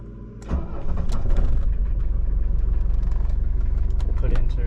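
A Mercedes-Benz W123 diesel engine cranks briefly, catches and settles into a loud, clattering idle with a steady rough rhythm, close by and heard alone.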